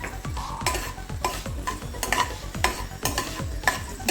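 Finely chopped garlic frying in hot oil left over from cooking french fries, a steady close sizzle broken by quick, rhythmic scrapes of a spoon stirring the pan.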